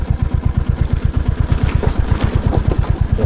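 A motorbike engine thumps in a fast, steady low pulse while riding down a damaged forest road, loud and close, with a rougher rasp over the beat and no talk.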